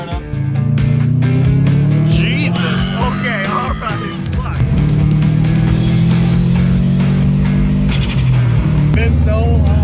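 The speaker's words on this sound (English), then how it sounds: "First exhaust startup." An engine-swapped Subaru GC8 fires up with its exhaust for the first time, a loud steady drone running the whole way through while a man exclaims and swears over it.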